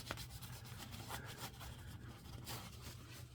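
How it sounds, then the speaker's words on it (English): Close, soft rubbing and wiping strokes as a rag cleans a Mercedes E-Class oil filter housing during an oil change, repeated in uneven passes over a quiet background. "You're going to wipe this clean."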